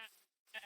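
Short sheep bleats in a blocky survival video game, two brief nasal calls separated by a moment of silence, fairly quiet and clear with no talking over them.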